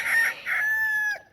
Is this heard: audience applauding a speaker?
no